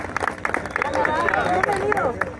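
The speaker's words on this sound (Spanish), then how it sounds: "Denle el aplauso a nuestro amigo visitante desde Canadá." Applause for a visitor from Canada at a gathering in Comitán, Chiapas, Mexico: crowd clapping mixed with cheering voices and babble, fairly loud and close, with tonal shouts rising over the claps.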